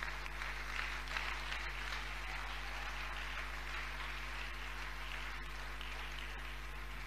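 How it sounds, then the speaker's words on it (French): Church congregation applauding during a morning worship service, a steady wash of clapping that holds evenly throughout, moderately distant with room hum underneath. "Est-ce que tu peux acclamer pour le Seigneur ce matin?"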